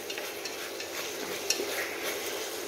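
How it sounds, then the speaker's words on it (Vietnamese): Curry ingredients for a vegetarian curry with sáp bananas and tofu are stir-fried in a pot, giving a steady close sizzle with scraping stirs and a sharp clink partway through. "xào này cho nó dính vô trong cái nguyên liệu của mình"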